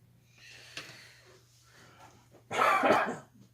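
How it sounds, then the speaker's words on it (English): A quiet room with faint murmuring, then one loud, harsh cough near the microphone. "I just want to cough all the time, apparently."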